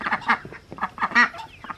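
Ducks and young chicks in a farm coop give a rapid run of close, overlapping quacks and peeps, several bursts in quick succession with no talking.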